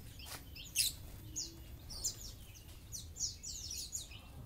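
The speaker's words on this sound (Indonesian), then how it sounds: "ini pleci. ini kolibri wolung" Pet songbirds, an oriental white-eye and a sunbird, chirping in a home aviary: scattered short, high tweets and calls at moderate distance over a steady low background hum, no talking.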